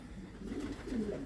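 Pigeons coo in a loft, a low steady murmur of several birds overlapping continuously at moderate distance.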